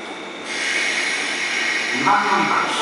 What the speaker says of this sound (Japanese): 発車します。 ドアが閉まります。